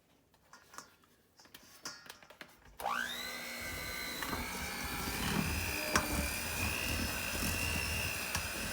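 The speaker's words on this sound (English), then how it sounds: "And then I'm gonna start mixing" An electric mixer whirs into life after some clattering, then runs in a steady high whine, beating butter and sugar in a bowl for sponge cake, close and continuous.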